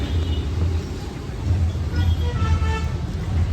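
Vehicle horns sound in crowded road traffic, with a brief tooting honk rising toward the end over a heavy, continuous engine rumble.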